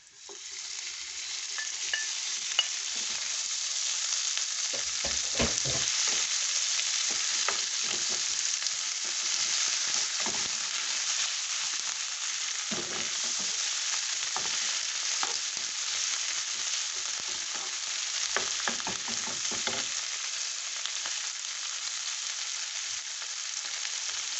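Pork sizzles and fries steadily in a hot pan, with intermittent scraping stir strokes against the metal throughout, loud and close with no talking.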